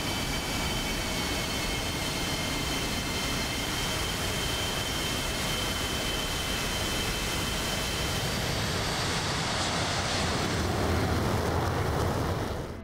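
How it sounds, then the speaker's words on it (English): Jet taking off with afterburner in DCS World, an F-16 Viper server: a continuous loud broadband roar holds steady throughout, like rushing wind, rising slightly near the end. "That's the number one taking off. And I can hear the afterburner."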